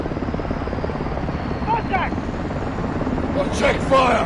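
Helicopter rotor drone in the video game Modern Warfare 2, a steady loud wash throughout with radio-style voices talking over it.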